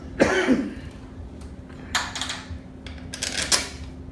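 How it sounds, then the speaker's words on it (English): A short cough near the start, followed by a few quieter rustling, clicking sounds. "The cameraman has a small cough."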